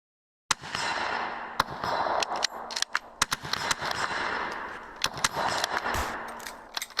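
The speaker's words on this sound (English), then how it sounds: "All of you stop firing." Squad of recruits firing guns together in a virtual military training drill: a dense, ragged volley of sharp repeated shots, loud and close, with overlapping bursts continuing for several seconds.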